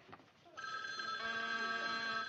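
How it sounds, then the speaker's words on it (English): A telephone bell rings steadily and fairly loudly in a room, its sustained tones starting after a brief moment of quiet and continuing without a break to the end. "I'll get the phone, Bob."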